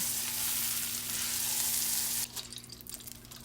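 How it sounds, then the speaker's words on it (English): Salmon sizzles steadily in a hot pan, a loud hiss that abruptly drops to quieter, crackling spatters partway through. "make sure you fry every side of your salmon"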